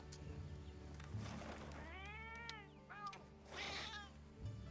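A Palico cat companion in Monster Hunter Wilds meows loudly, with several drawn-out, wavering yowls in a row over a soft game background hum.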